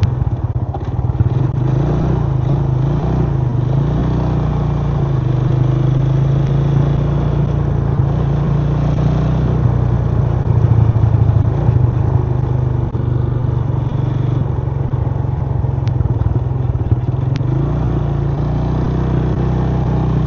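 Onboard sound of a Yamaha LC135 V1 motorcycle engine, a steady mid-pitched two-wheeler drone with slight clatter, close and continuous throughout with little change in load.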